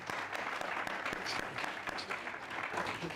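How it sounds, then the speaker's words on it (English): An audience at a panel discussion masterclass breaks into applause, a steady patter of many hands with individual claps popping out, moderately faint and continuing for several seconds. "A round of applause."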